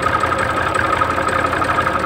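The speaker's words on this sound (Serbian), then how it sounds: "znači traktor ne dimi, ne tupće u radu" An IMT 542 tractor engine idles smoothly and steadily up close, a continuous even rumble with no variation in pace and no voices.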